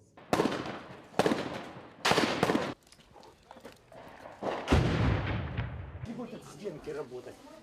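Artillery shelling of Mariupol during the Russian assault, heard as several heavy booming blasts in the first three seconds followed by a longer rumbling explosion and debris-filled crackle, loud and close with no talk.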